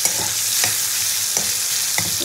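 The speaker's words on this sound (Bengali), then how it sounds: "চিংড়ি মাছটা ভেজে নিয়ে" Prawns frying in spiced oil give a steady, loud broadband sizzle, with a few soft stirring scrapes and clinks of a utensil against the pan, and no voices.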